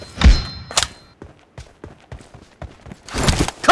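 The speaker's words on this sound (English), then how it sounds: "Reloading!" A weapon reloads in a video game team deathmatch. Several clicks, clacks and thunks of handling follow one another, with a louder rustle of movement at the end.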